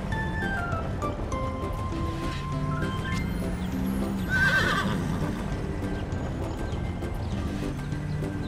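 A cartoon horse in a children's animation whinnies loudly with a drawn-out neigh that peaks midway, while its hooves clip-clop steadily beneath a bright musical score.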